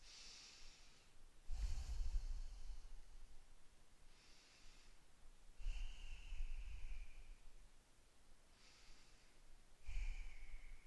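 Slow yoga breathing in a Warrior 2 series pose: three soft, evenly spaced breath cycles, each a low airy inhale-exhale swell, close and quiet with no talking.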